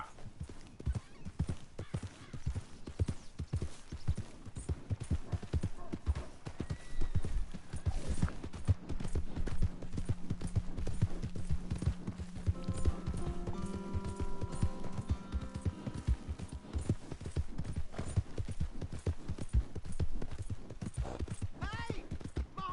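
Horse hooves clip-clop steadily in Red Dead Redemption 2, a near, continuous trot running the whole way with a brief whinny, game music and a voice talking over it.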